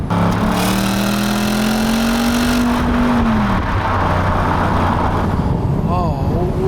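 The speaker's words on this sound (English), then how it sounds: "like all naturally aspirated quad-cam engines, it requires some revs to get the very best off it" The naturally aspirated quad-cam engine of a 2006 Jaguar XK Convertible revs up with a rising then falling tone, loud and close, with a brief pitch sweep near the end.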